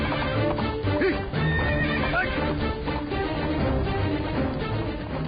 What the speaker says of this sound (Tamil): குதிரை அடங்க மறுக்கிறது மகாராஜா.